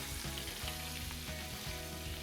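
Walleye wings and cheeks frying in hot oil, a loud, steady sizzle and crackle running without a break, close up, with no voices.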